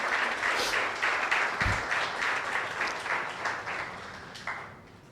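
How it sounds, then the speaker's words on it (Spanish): Church congregation applauding during a Spanish-language worship service, a steady wash of many hands clapping at once that carries through the whole stretch with a few faint voices mixed in. "¿Cuántos aplauden al Señor?"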